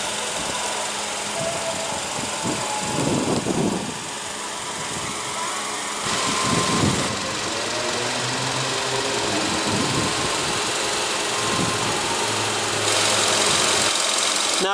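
The 1.6-liter inline four-cylinder engine of a 2016 Kia Soul runs steadily with a continuous hum, heard loud and close.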